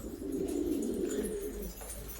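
Homing pigeons cooing inside a loft, a steady low murmur of overlapping coos running continuously and close by, with no talk over it.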